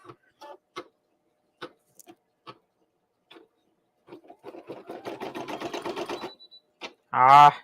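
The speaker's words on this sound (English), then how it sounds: "we're going to go ahead and go to the satin stitch" A home embroidery machine stitching a satin stitch: a few isolated ticks and clicks, then a fast, steady run of mechanical stitching that builds and stops, ending in a short loud burst, with no talking.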